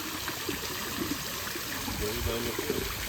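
Water streams steadily into a children's pool in a continuous close trickling rush, with faint voices talking underneath.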